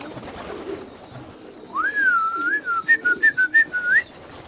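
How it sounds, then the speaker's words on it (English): A Danish racing pigeon gives a clear whistling coo that slides and warbles, then breaks into a string of short rhythmic pulses near the end, heard close over faint background noise. "So how smart the pigeons are."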